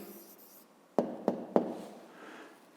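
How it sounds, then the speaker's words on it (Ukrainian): Three quick pen strokes or taps on paper, close and crisp, evenly spaced over a faint room hiss while a child's math exercise answer is written down. "Пишемо відповідь."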